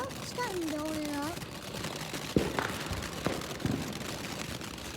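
Fourth of July fireworks going off, a few sharp bursts and pops spaced apart at moderate distance, following a stretch of speech-like talking at the start.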